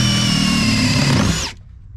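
A power tool cutting a notch for a diesel heater fuel pump wire during a van install, loud and close with a steady high whine that rises slightly, then cuts off abruptly near the end.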